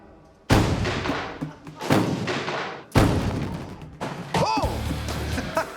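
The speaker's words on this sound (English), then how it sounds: "The rag put the torch to the ethanol, exploding the shack just as they hoped it would." Ethanol fumes igniting from a torch-lit rag and exploding a shack, a series of loud, heavy booms and crashing thuds with a voice heard among them.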